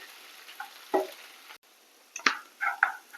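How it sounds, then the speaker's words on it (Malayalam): Fried chicken is stirred in sizzling honey sauce in a pan, a soft steady hiss broken by a few scraping stirs and clinks, close up with no talking. "ചിക്കനും ഇതും കൂടെ നന്നായിട്ട് ഇളക്കി യോജിപ്പിച്ചു കൊടുക്കാം"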